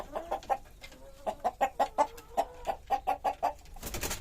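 Several chickens cluck in quick, irregular bursts close by, followed by a short rustling noise at the end.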